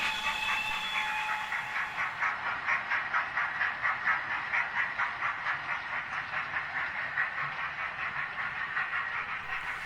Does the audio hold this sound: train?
yes